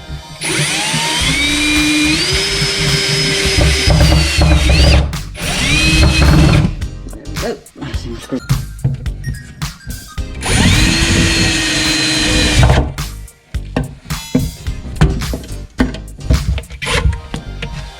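A power drill drives screws into a wooden kitchen island, two long loud whirring runs with rising pitch, each followed by short bursts, shuffles and knocks between them.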